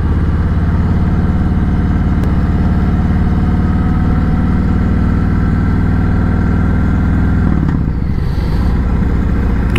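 A 2018 Harley-Davidson Sport Glide motorcycle engine runs with a loud, steady, deep throb, then drops in pitch near the end with a brief clattering shift as it downshifts. No one speaks.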